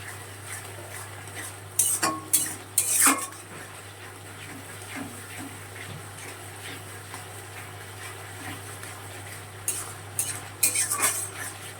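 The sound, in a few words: stirring and frying spices in a pan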